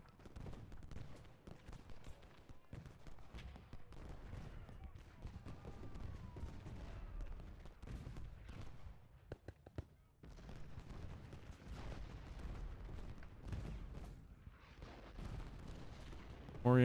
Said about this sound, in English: Most of my guns are firing.